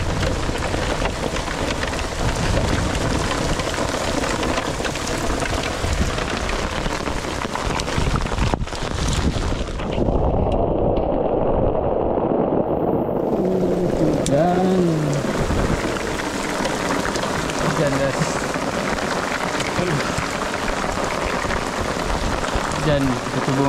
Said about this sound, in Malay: Lebat guys, hujan kat sini.